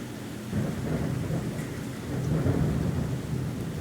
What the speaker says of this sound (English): we're having some big thunderstorms here